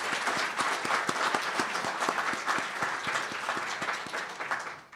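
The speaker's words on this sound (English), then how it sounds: "Let's give them a round of applause for this." An audience at a health system leadership event applauds the hospital recruitment team with a dense, steady wash of many hands clapping that holds for several seconds before easing slightly at the end.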